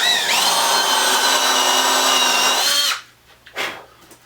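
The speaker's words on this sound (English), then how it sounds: "just kind of drill a relief on that spot." Power drill boring a shallow relief hole into a 2x4 in a garage, a loud steady whine lasting about three seconds before stopping, followed by a couple of faint handling knocks.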